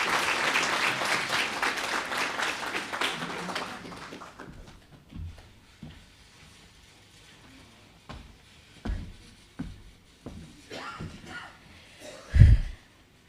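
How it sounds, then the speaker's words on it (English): An audience gives a round of applause as performers come onto the stage at a World Teachers Day event. It starts loud and dense, then fades over about four seconds into scattered faint claps and a few louder thumps. "May I please ask you to give them a big round of applause as they come to the stage."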